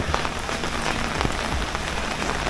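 Rain falls steadily on a rooftop tent mounted on a car roof, a dense, close patter of drops drumming on the tent with occasional louder individual hits and no talking.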